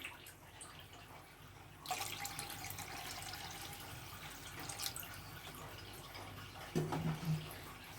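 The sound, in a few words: water poured into a pan on the stove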